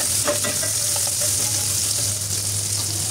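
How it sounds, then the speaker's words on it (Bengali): Chopped onion and green chillies fry in hot oil, giving a steady bright sizzle with a few soft stirring clicks, close and continuous, with no voices. "পেঁয়াজ কাঁচামরিচ দিয়ে ভালোভাবে নেড়েচেড়ে একটু ভেজে"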